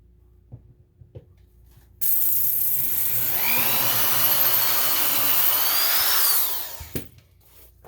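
A drill press bores a hole in a chromatic harmonica slider made of a material harder than brass, a steady loud whine lasting about four seconds alone, framed by faint clicks and handling taps before and after.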